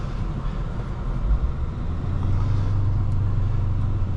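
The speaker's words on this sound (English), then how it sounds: "can you hear just a little rumble from the back exhaust?" A deep, steady Mercedes CL500 4.7 V8 exhaust rumble idles close by, low and throbbing without a break, growing slightly fuller partway through.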